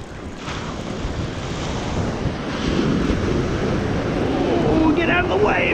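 Ocean surf rolls and breaks on a beach at Lakes Entrance, East Gippsland, a steady wash mixed with wind buffeting the microphone, while someone talks over it during salmon fishing.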